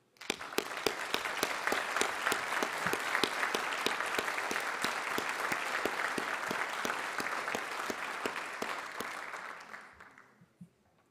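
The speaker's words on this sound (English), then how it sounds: "we need to applaud our students and all those standing" Sustained applause from a large audience at a school district academy launch event, many hands clapping steadily for about ten seconds before fading out.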